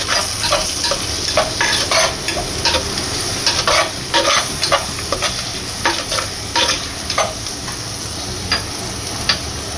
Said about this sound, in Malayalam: ഒന്നും കൂടെ ഒന്ന് വഴറ്റും.